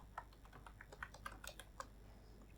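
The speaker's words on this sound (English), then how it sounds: "So let's type something." Typing on a computer keyboard, a quick run of sharp, irregular key clicks close up but quiet, with no voices.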